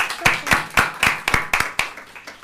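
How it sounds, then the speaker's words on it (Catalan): Slow, rhythmic hand claps sound close and fairly quiet at a small Catalan talk, about two per second, each a sharp isolated smack rather than a full round of applause. "Un aplaudiment per l'Albert, si us plau."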